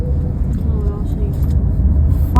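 A car drives along with a steady low engine and road rumble, close and fairly loud, while people talk inside; a brief sharper sound comes at the end.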